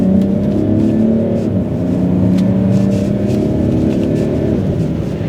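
A Mercedes-Benz GLS450d diesel SUV engine, with mild hybrid and 9-speed automatic, drones and rises in pitch as it accelerates through gear changes, a steady rumbling roar with no voices.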